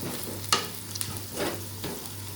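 Onions fry softly in a pan for North Karnataka-style oggarane avalakki, and a spoon scrapes through them in a few short strokes over a low sizzle, close and fairly quiet.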